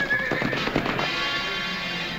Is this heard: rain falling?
no